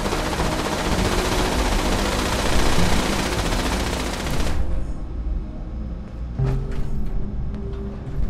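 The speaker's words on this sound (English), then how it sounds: "Oh, now they're shooting at me" Enemies open fire on the player in Fallout 76, loud rapid gunfire in dense bursts that cuts off midway, followed by scattered fainter shots and impacts.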